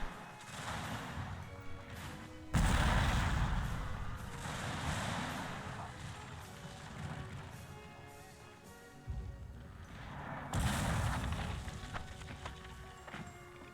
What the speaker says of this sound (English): I'm still opening fire with my artillery and my muskets